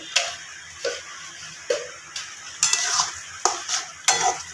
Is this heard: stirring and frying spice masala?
yes